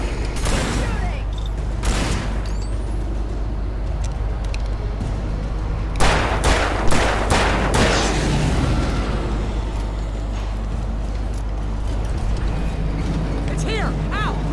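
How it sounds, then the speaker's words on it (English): Gunfire crackles through a video game firefight, scattered shots and a tight cluster of bursts partway through over a constant low rumble, with voices shouting now and then. "Keep shooting!"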